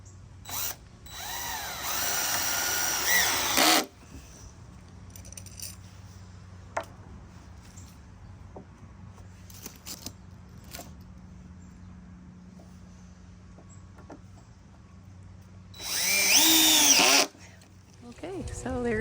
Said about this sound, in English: So I'm gonna try a screwdriver instead.